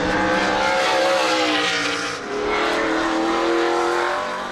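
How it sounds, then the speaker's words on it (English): A race car from the Lynch Racing Team roars around Symphony Raceway in Napa Valley during testing, a loud, sustained engine drone with rising and falling harmonics, briefly dipping mid-way before swelling again as it passes close. "The Lynch Racing Team is testing 2 new cars."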